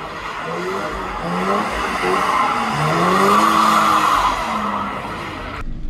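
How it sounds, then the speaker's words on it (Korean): A Toyota GR86 rear-wheel-drive manual sports car with a boxer engine drifts on a racetrack, its tires squealing in long wavering howls over a steady engine drone for the whole stretch. "과연 드리프트 어떻게 하는 건지 한번 확인해 보시죠"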